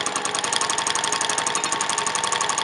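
A sewing machine runs fast and steady while free motion quilting a jelly roll quilt, its needle hammering in an even, rapid mechanical rhythm, loud and close with no talking.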